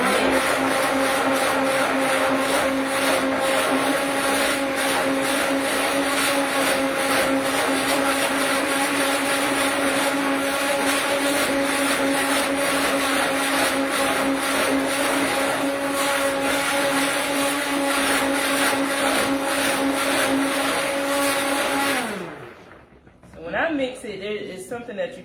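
A blender whirs steadily while mixing soap oils, lye and distilled water, a loud sustained motor hum with a pulsing buzz that winds down and stops near the end, followed by brief clattering.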